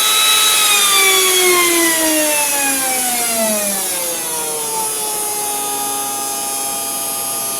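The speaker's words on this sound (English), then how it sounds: "As you can hear, the motor's revving up pretty good." A small engraver motor, converted from an Ender 3D printer, whines loudly, its pitch sliding steadily as it revs up, a steady high mechanical hum with no talking.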